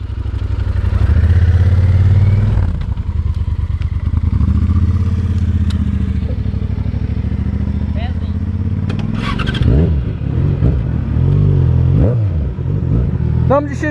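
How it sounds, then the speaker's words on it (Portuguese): A Yamaha XJ6 motorcycle engine revs and idles up close in Espigão do Oeste, with rising and falling throttle blips and clattering, while people talk over it. "Agora vou na casa do William com a motoca dele, com a XJ6 agora"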